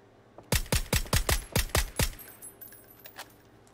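A burst of about nine rapid gunshots from a weapon in the video game PUBG, loud and evenly spaced over a couple of seconds, then fading into quiet game ambience.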